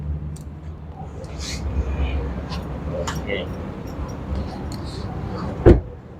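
A 4x4 pickup truck door shuts with a single sharp, solid thud near the end, following quieter clicks and handling noises inside the cab over a low background hum.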